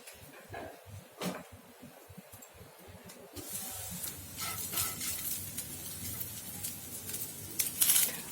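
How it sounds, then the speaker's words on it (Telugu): Raw banana pieces frying in a pan over a low flame, with soft sizzling at first and a few clinks of a spoon, then the hiss grows louder and fuller, close and without talk. "ఈ కూర ప్రిపరేషన్ స్టవ్ ఫ్లేమ్ సిమ్లో పెట్టుకొని చేసుకుంటే అరటికాయ ముక్కలు మాడకుండా ఈవెన్గా కుక్ అవుతాయి"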